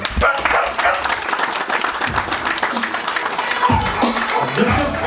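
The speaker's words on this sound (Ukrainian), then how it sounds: "молодшим сержантом Артемом Одинцем зустрічаємо оплесками." A crowd applauds at an award ceremony in Kyiv honoring service dogs and their handlers, with steady, dense clapping that fills about five seconds without a break.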